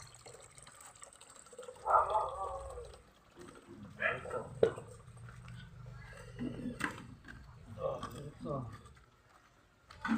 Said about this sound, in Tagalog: Dito, diretso yung tubig dyan sa hose.